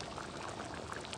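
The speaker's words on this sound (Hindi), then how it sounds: "अभी हम चनों में मलाई डालने लगे" Cream pours into a pan of chickpea curry for Lahori-style khoya chana, giving a brief, continuous liquid splashing and bubbling close by.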